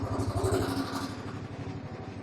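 A small engine just started on choke settles into a steady idle, its low pulsing throb close by and alone with no voices.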